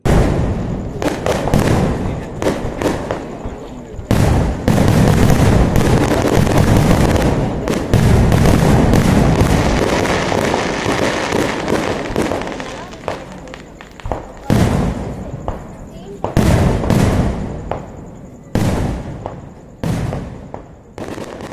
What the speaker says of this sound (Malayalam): ദീപവും തിരിയും എഴുന്നള്ളിച്ചതിന് ശേഷമാണ് വെടിക്കെട്ട് തുടങ്ങുന്നത്